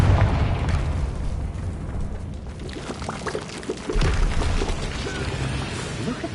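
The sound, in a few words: Confringo blast spell exploding a barrier, Hogwarts Legacy video game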